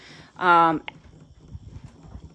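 Draft horse hooves thud in soft, irregular steps close by after a brief loud vocal burst, with faint background sounds around them.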